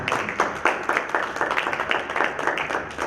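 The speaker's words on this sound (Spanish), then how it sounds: "Un aplauso, por favor." A conference audience in a lecture hall gives steady applause, a dense stream of overlapping hand claps at an even level throughout, with no one speaking over it.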